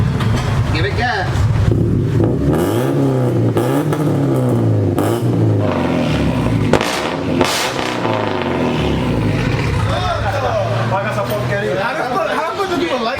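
A turbocharged Honda Civic with a Ktuned muffler revs repeatedly, its engine note rising and falling loudly nearby while several people talk excitedly over it.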